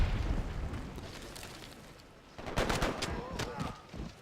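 Cannon fire in the strategy game Civilization V: muffled booms and a rapid cluster of blasts, growing louder partway through, faint and low in the mix.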